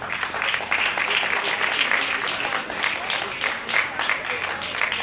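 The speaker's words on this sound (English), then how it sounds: "Let's give them a thunderous hand of applause" A school hall audience at a Nizam birth anniversary function gives sustained, even applause, a thick wash of many hands clapping steadily throughout with no pauses.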